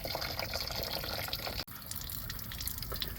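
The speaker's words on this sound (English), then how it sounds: "because it is super hot water coming out." Hot coolant draining from the radiator of a 2011-2019 Ford Explorer Police Interceptor Utility, a steady close splashing flow of liquid with no talk and a brief dip midway.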